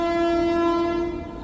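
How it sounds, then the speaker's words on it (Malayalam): A loud, sustained train horn blares in one steady tone, then tapers slightly at the end. "അതാ ട്രെയിൻ വരുന്നുണ്ട്"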